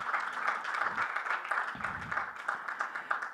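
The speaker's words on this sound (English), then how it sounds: "Let's give him a big round of applause." Applause rises from the audience at a fintech festival panel as speakers are introduced, a moderate, continuous patter of clapping hands heard from some distance across the room.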